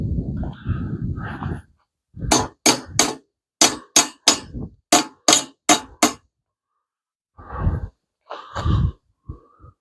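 A hammer strikes in a quick, even series of sharp, loud blows, about ten in a row, close by, with muffled knocks and rustling before and after.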